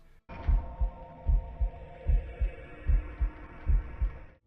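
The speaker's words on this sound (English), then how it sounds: "I don't know if it's just the heartbeat sound or the way they pulsate, but it just feels unnatural." A giant, disturbing heartbeat from a fleshy Govi soul container in an N64 horror video game thumps in a steady, slow double-beat rhythm over a low droning hum, loud and close with no voices.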